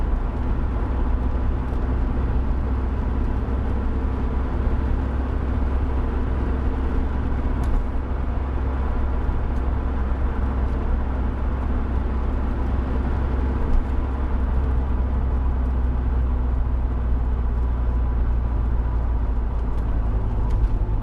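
A Land Rover Discovery running on waste vegetable oil drives along with a steady, loud, low engine and road rumble, unbroken from start to finish.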